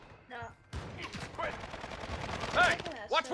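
Gunfire in the video game Call of Duty DMZ, rapid close bursts of shots mixed with voices talking over the shooting.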